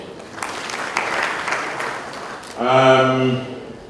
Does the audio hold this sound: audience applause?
yes